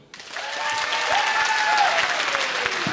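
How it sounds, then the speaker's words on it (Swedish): A comedy club audience breaks into applause that swells quickly and holds steady, with a few whoops riding above the clapping. "En applåd nu."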